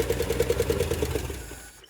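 A 1968 Chevrolet Impala left sitting for about 18 years cranks hard and fast as it tries to start, a steady rapid churning pulse under the starter that slows and fades out near the end without catching.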